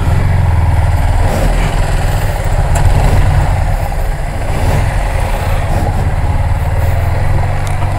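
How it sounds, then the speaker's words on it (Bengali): A motorcycle engine runs loud and close at a steady low rumble as the bike is turned around on a very rough road, with no talking over it. "আমরা আমাদের বাইক ঘুরে নিতেছি, কারণ রাস্তা অত্যন্ত খারাপ।"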